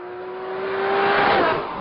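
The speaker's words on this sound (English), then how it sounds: "You can't help but floor the thing. And all of a sudden, this car absolutely takes off." Lamborghini Murcielago accelerating hard at full throttle, a loud, steady engine roar rising in pitch and swelling over about two seconds, close and alone with no talk.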